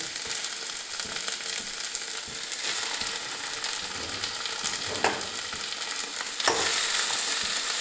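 Meat frying in a pan hisses in a loud, continuous sizzle, with stirring scrapes and a few sharper clatters as it is turned.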